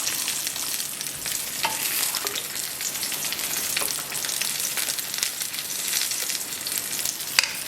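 Food sizzles steadily in a pan for a Persian eggplant and meat stew while it is gently mixed, with a continuous close frying hiss and a few soft scraping touches, no voices.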